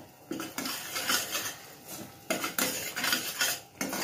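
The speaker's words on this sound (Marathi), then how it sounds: "चांगलं ढवळून घ्यायचंय" Fresh masala paste stirred in hot oil in a pressure cooker, with metallic scrapes and clinks of a spoon against the pot in uneven bursts, close and fairly loud.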